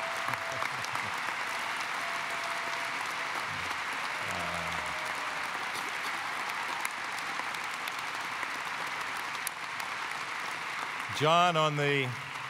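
Sustained audience applause fills a university presidential inauguration hall, a steady wash of clapping throughout, with a brief burst of voices near the end.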